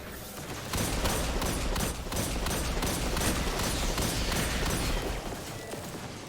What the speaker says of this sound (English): Not a bad little hand cannon.